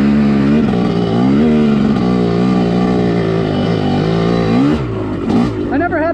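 A TM MX250 two-stroke dirt bike ridden on a slippery track, its engine loud and close, holding a buzzing high-revving drone with small throttle swells, then briefly dropping off and picking back up.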